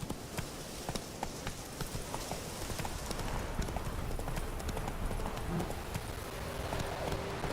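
Roach the horse gallops in The Witcher 3, a steady rhythm of close hoof clip-clops with a faint neigh at one point.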